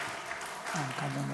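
Applause from a church congregation at a Sunday worship service, a broad wash of clapping under which someone speaks briefly.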